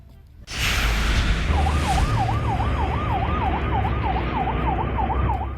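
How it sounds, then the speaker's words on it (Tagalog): A loud, wailing Long Range Acoustic Device (LRAD) siren at sea warbles rapidly up and down continuously, blaring over a steady rumbling engine drone. "Ang malakas na wangwang na yan ay tinatawag na Long Range Acoustic Device o LRAD."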